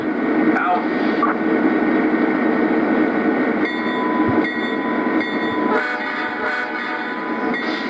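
Two O gauge model locomotives on a Conahey Rail layout pull out with a steady rumbling drone, joined by short horn-like tones, with a radio-style voice talking over the running.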